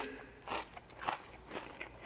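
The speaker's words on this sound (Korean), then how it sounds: "고기가 씹히는데? 가시 느낌이 하나도 안 나요." Crispy deep-fried river fish being chewed close up outdoors, a few soft irregular crunches and bites spread over two seconds, quiet with no talk.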